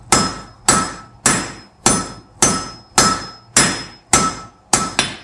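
Nine evenly spaced, loud hammer blows ring out on an iron bar being forged on an anvil for a rune pendant, each strike sharp and clanging with a brief decaying ring before the next.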